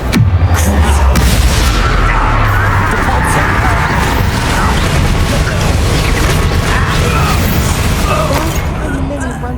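Confringo fire spell from Hogwarts Legacy, a dense sustained roar of blasts and crashing debris filling the whole stretch, loud and continuous with a voice briefly heard.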